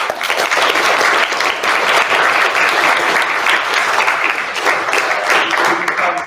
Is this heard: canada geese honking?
no